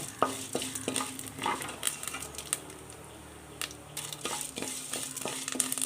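Rice grains crackle and pop steadily in a hot pan, with a soft sizzle underneath and occasional scraping of a spoon; no voices.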